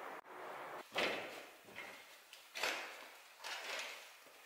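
A drawer stuffed with photos is pulled open and shoved about, giving several loud, close wooden sliding scrapes and knocks spread over a few seconds, with no talking.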